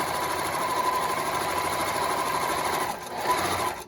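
A sewing machine runs a long continuous seam along the curved edges of an apron at a short stitch length, a loud steady mechanical whir that briefly dips and then resumes near the end.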